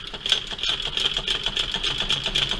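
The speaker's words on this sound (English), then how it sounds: "The hand wheel turns away from you as it sews." A Domestic high arm fiddlebase treadle-style sewing machine runs steadily, a close, rhythmic clattering tick of needle and mechanism repeating evenly throughout, with no talking.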